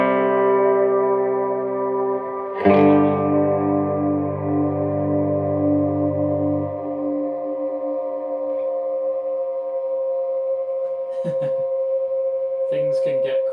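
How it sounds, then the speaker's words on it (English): Sustained guitar tones pass through pedalboard delay, their repeats washed in reverb and trailing off into a ringing echo, with a few short plucked notes near the end. "if I want to apply reverb to the repeats"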